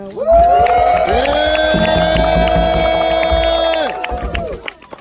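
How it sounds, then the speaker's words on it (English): A crowd at a hiker trail-days gathering cheers loudly, with sustained shouting voices and whoops layered over thumping beats, then breaking off abruptly before scattered noise. "Everybody cheer for Miss Janet."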